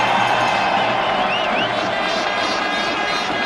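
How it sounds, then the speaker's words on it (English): Dense, sustained roar of a large cricket crowd cheering at a 1999 Pakistan versus India match in Sharjah, a steady wall of noise with no pauses. "It's enough to get the crowd roaring."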